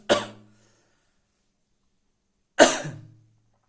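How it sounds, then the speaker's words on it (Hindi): Two short, close coughs separated by a couple seconds of silence. "थोड़ी सी खांसी उठ गई थी इसलिए थोड़ी प्रॉब्लम होगी"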